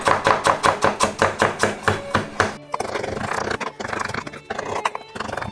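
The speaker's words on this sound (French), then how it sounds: "Je vais ciseler finement mes échalotes." Knife chopping shallots finely on a cutting board, a fast regular run of crisp close taps for about two and a half seconds, then looser, softer mincing strokes mixed with scraping.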